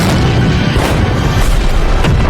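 A Ukrainian artillery gun at a firing position fires a shell, producing a very loud, heavy boom that rolls on as a sustained low rumble filling the whole moment, close and overwhelming.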